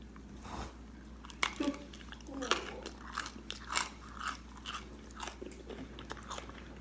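Close, crunchy chewing of crisp Lou Malnati's Chicago pizza crust, with sharp crackling bites repeating irregularly over a low background hum.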